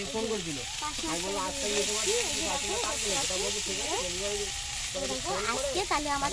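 Fish head sizzling in hot oil in a home frying pan, a steady broadband crackle and hiss running throughout, with a voice talking over it for most of the clip.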